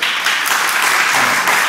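A live audience at a panel discussion on marriage equality in Chicago breaks into loud, sustained applause, a dense wash of many hands clapping at once.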